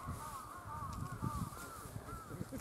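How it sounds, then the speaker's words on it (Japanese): A crow caws repeatedly at a distance along an old rural road in Ishikoshi, Tome, Japan, with a series of faint, raspy calls over quiet outdoor background. "サギちゃんもいいけどカラスもですね。"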